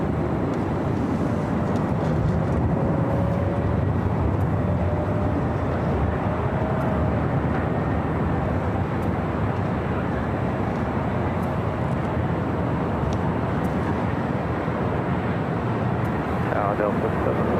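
A jet airliner takes off from runway 24 left at LAX with a continuous broad roar that holds steady throughout, while radio-style voices come and go over the engine noise.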